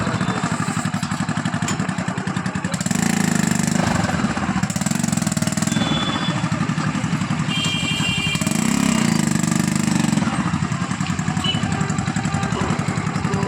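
A motorcycle engine powering a homemade vehicle runs close by with a steady, rattling chug, revving up louder twice before settling back to idle.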